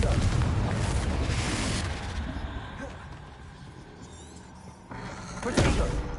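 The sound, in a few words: Confringo fire-blast spell explosion from video game Hogwarts Legacy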